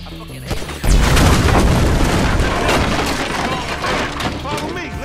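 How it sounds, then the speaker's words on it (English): Gunfire and a gas can blowing up in the GTA V video game on PS4: a heavy boom bursts in after a short lead-in, followed by sustained loud crackling shots and debris that slowly fade over several seconds. "Shoot that gas can."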